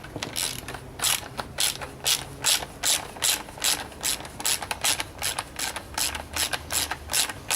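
A socket ratchet clicks steadily as it tightens the fork top cap on a Yamaha MT-07 motorcycle. The close, loud pawl clicks come in even bursts throughout, with no voices.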